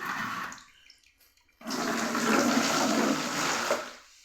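Homemade phenyl liquid is mixed in a bucket: a short watery swish, a quiet pause, then a loud, sustained rushing slosh of liquid that fades out at the end, with no talking.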